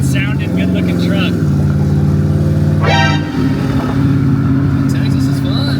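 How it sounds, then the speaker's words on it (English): A twin-turbo 5.0 Ford F-150 pickup truck runs with a steady, loud engine drone that dips briefly midway, while people talk over it. "Yeah, it's a good sounding, good looking truck."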